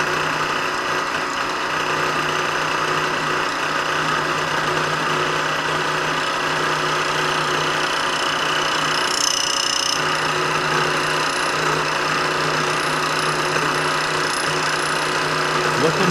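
A metal lathe running steadily at 1850 RPM during a hand-fed cut, producing a constant mechanical hum and whine with a faint high tone appearing briefly midway.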